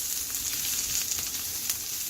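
Green onions sizzle steadily in a frying pan, a bright continuous hiss with a few small crackles, close and moderately loud, with no voices.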